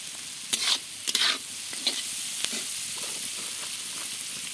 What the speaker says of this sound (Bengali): সবগুলোকে একসঙ্গে ভাজতে থাকবো, বেশি ভাজবো না